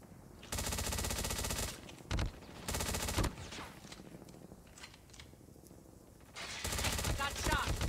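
Automatic gunfire in Call of Duty Mobile during a duel match, loud sustained bursts of rapid shots with short gaps between them, the last burst starting near the end.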